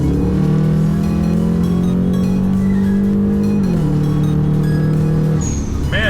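A Stage 2 tuned 2008 Subaru Legacy GT accelerating hard in second gear from about 4,000 RPM, with a loud, close engine drone that climbs steadily, dips briefly at a shift, then climbs again.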